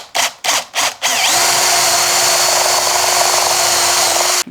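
A 9 mm drill bit bores through the soft body wood of a guitar. Several short bursts of the power drill come first, then one long steady high-pitched whine of the bit cutting through the wood, loud and close, with no talking.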